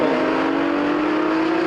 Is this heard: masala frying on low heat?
no